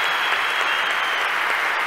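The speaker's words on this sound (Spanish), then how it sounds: "les pido un fuerte aplauso para todos los que están acá" Strong, continuous applause from an audience at a talk, a dense and steady roll of many hands clapping with no pauses.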